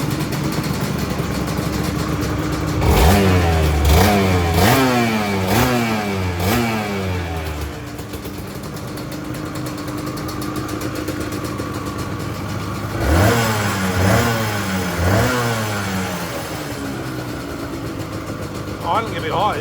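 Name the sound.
motorcycle engine idling high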